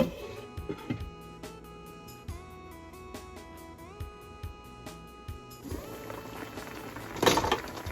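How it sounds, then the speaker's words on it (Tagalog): Pork chops boiling in a pan of water, with scattered bubbling pops and crackles over a steady tonal background hum, quiet and close. "Lagyan ng tubig and then pakuluan na natin."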